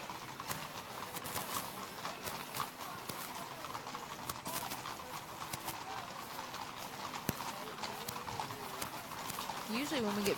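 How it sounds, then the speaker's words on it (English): Horses with outriders clip-clop along a street during a Mule Day parade, steady overlapping hoofbeats at moderate distance under crowd noise and a commentator talking. "Beautiful horses."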